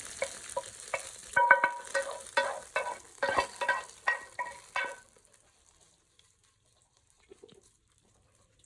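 Curry leaves and 4-5 dried red chilies sizzle and crackle in hot oil for a tempering while being stirred with rhythmic scrapes, close and fairly loud, then the sound stops abruptly and leaves near silence.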